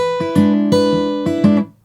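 Acoustic guitar fingerpicking a blues pattern, a plucked bass note followed by a strummed chuck, repeating in an even syncopated rhythm for under two seconds, close and clear with no talking.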